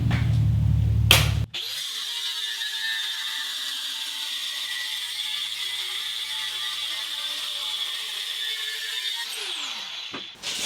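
Abrasive metal cut-off blade on a power tool slicing a thin metal piece: a loud, steady high-pitched whine and grinding hiss lasting about eight seconds, bracketed by brief bursts of motor startup and spin-down.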